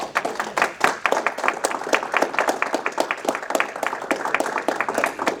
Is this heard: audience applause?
yes